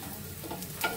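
Pointed gourd frying in a pan, a brief steady sizzle with a small clatter near the end.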